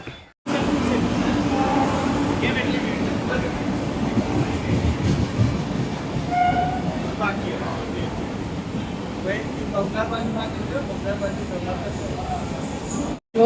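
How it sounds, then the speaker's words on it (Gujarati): A train pulls into a station platform in Navsari, a loud rolling rumble with clattering wheels and faint squeals over about thirteen seconds, while people talk nearby. "જો મિત્રો ટ્રેન આવી ગઈ છે"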